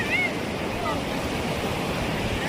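A river near Manali rushes past in a steady, close broadband roar with wind buffeting the microphone, continuous and even throughout, with a faint voice barely present beneath.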